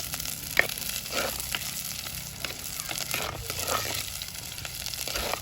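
Curry chilies hit a pan of frying potatoes in Jaffna-style village cooking, giving a steady, close sizzle broken by a few light stirring clinks.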